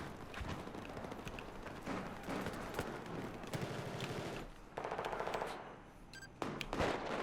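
Video game Battlefield 4 gunfire, dense automatic bursts and single shots crackling almost without pause, loud and busy through the whole stretch with a few thumps near the end.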